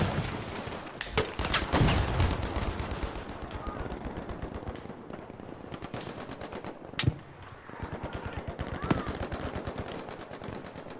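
Rapid bursts of Lewis gun fire in a competitive first-person shooter match, sharp repeated reports clustering in volleys across the clip with a few louder standalone shots, loud and close over constant background game noise.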